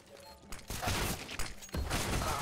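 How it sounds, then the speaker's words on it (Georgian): Counter-Strike match gunfire at a LAN final, a few muffled bursts of shots and thuds in quick succession, fairly faint under a soft voice. "აი მოასწროეს იმ გასროლა"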